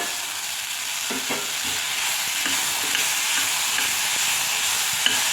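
Chopped tomato stirred into simmering dal in a pan sets off a continuous, fairly loud sizzle, with occasional soft stirring knocks close up and no voices.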